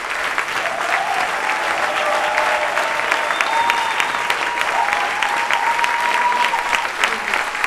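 Political rally audience clapping steadily and loudly, a sustained dense round of applause heard close, with faint voices mixed in underneath.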